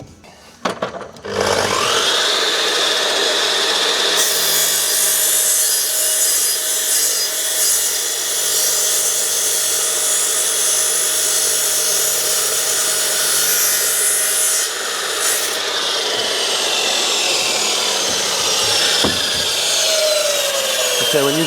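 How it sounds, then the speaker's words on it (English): A mitre chop saw set to 22.5 degrees cuts timber for a conservatory roof, a loud continuous high-pitched whine and rasping cut holding steady for about twenty seconds before spinning down at the end. "when using your chop saw, I advise you use ear protectors and some eye protection as well"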